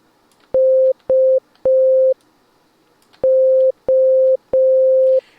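A centered FL Studio 3xOSC synthesizer tone plays as six steady, clean beeps of equal pitch, each starting with a click, in two groups of three with a short gap between, loud and alone.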